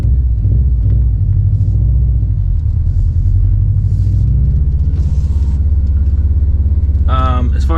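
A tuned drift car fitted with a Cobb SF intake and an R400 catback rumbles loud and close during flat-foot shifting, a heavy, steady engine drone with brief higher bursts near the end.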